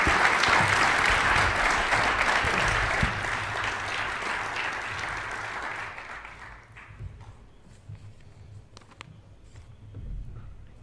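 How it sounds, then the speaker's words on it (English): Audience applause for a panel at a SEAHAC 2022 conference, loud sustained clapping for about six seconds that tapers off into quiet room noise with scattered faint sounds. "let's give a great round of applause to this panel"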